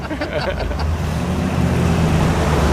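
A 1962 Chevrolet Corvette accelerating through first gear, a loud steady engine roar and road rumble heard from inside the car, with people talking over it.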